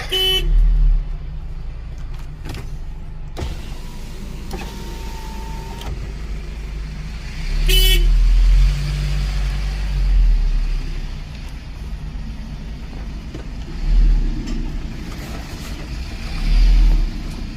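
An old Daedong 19 hp tractor, over thirty years old and hard to start, cranks and turns over in loud repeated bursts, then its engine runs in a rough, uneven drone.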